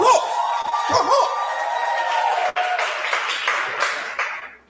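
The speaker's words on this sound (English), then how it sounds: "Give Hetty another round of applause" Workshop audience in Lwandle clapping and cheering for a presenter named Hetty, a dense continuous wash of applause with a few whoops, fairly loud and close, fading away at the end.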